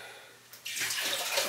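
Vinegar and apple cider vinegar are poured into a container for pickling eggs, a soft liquid splash that starts abruptly partway through and continues as a steady, close, fairly quiet stream.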